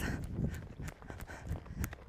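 A roan horse trots under a rider, its hooves striking in a quick, steady clip-clop rhythm, close and moderately loud over soft outdoor background noise.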